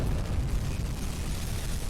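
A torpedo strikes a ship amidships in the submarine game UBOAT, producing a continuous deep, rumbling explosion that fills the whole stretch without pause.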